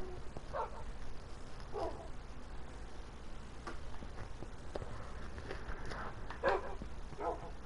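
A dog in the video game Minecraft barks a few times, short quiet yips spaced irregularly over a low, steady background hum.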